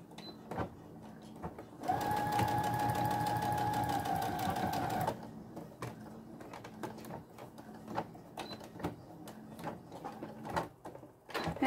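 A sewing machine stitching the last bit of a cotton dish towel, a steady close mechanical whirr lasting about three seconds, with quiet handling clicks before and after.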